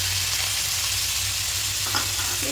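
Vegetable fried rice with soaked raisins and cashews being stirred in a pan, a steady close sizzle with soft scraping of the spoon, no voices.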